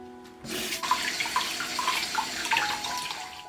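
Razor clams are rinsed under a running kitchen tap: a steady splashing stream starts abruptly after a brief pause and continues at close range, with no talking.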